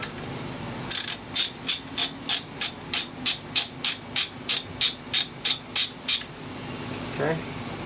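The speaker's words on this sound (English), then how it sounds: "let me get the socket" Socket ratchet clicking rapidly as it loosens the clutch on a Husqvarna 2100 CD chainsaw, a steady run of about seventeen sharp, even ratchet strokes, close and loud, then a brief faint sound after it stops.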